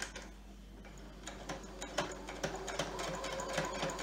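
A sewing machine stitches a face mask in a quiet, rapid ticking rhythm with regular mechanical clicks, steady and fairly faint over a low hum.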